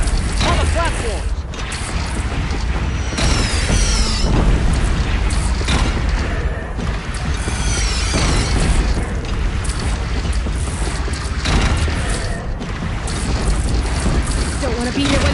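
Cannon fire and deep booming explosions roll through a battle in the video game Horizon Zero Dawn, dense and loud, with mechanical clatter and shouting voices throughout.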